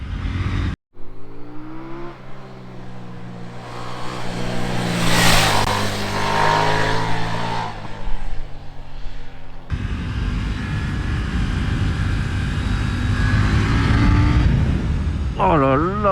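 A KTM Duke 890R motorcycle engine pulls hard, its rising whine climbing through the revs with a brief break for a gear change, then surging again loud and close under wind noise, with a voice heard at moments.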